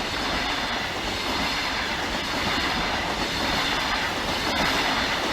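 A Class 43 diesel train rumbles past close by, steady low engine roar with rail noise and faint rhythmic wheel clicks throughout.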